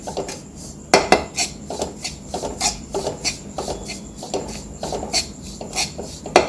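A utensil stirs and scrapes dry wheat flour as it roasts over a low flame in a pan for Vidarbha-style ukadpendi. The scrapes and clinks come close and rhythmic against the metal, with no talking.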